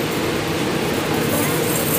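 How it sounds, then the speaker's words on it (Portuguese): Inside a moving passenger train near Mooca station, a loud, steady rumble of wheels and carriage noise fills the space, with a voice talking over it. "Gravando aqui dentro do trem pra vocês agora."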